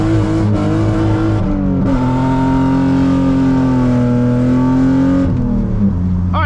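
A BMW E36 with a welded differential revs hard while drifting around a corner in falling snow, its engine droning loud and close with rising and falling pitch as the throttle swings through the slide.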